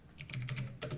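Typing on a computer keyboard while entering a command on a Windows 11 PC, a short run of close, crisp key clicks with a few quick strokes in a brief burst, no talking.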